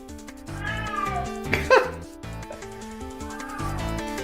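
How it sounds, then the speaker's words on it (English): A cat gives a loud, close meow in the middle, with softer vocal sounds around it, set against steady background music. "Cat is literally saying hello"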